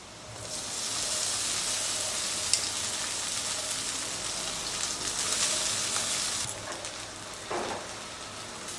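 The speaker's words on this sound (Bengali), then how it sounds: "এবারে এর মধ্যে দিচ্ছি রেডি করে রাখা ভাতটা।" Cooked rice tipped into a pan of fried spices for onion rice sets off a loud, steady crackling sizzle that runs for several seconds, then eases as a few soft stirring scrapes follow.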